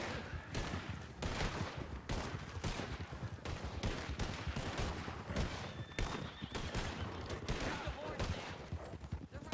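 Rapid gunfire crackles through a roleplay video game shootout in a Wild West setting, with dense overlapping shots and volleys that stay loud and continuous, and horses whinnying amid the chaos.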